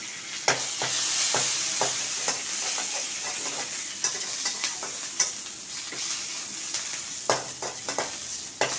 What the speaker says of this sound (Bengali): কারি পাতা একটু ভাজা ভাজা হোক